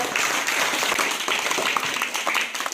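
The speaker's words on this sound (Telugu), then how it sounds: "మళ్ళీ ఒకసారి క్లాప్స్ కొట్టండి గట్టిగా" Students clap together at a school National Maths Day celebration, a dense, sustained burst of applause from a crowd that fills the room, steady and loud without a break.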